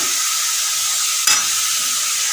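Radish with turmeric and salt sizzles loudly and constantly in a hot wok, a dense close hiss broken once by a short scrape of stirring halfway through.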